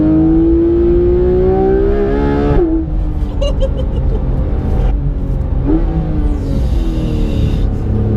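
A Porsche 991 GT3 RS engine revs hard and close: its pitch climbs steeply, breaks at a shift, then climbs again through another change, loud and sustained with a rising howl and no talking over it.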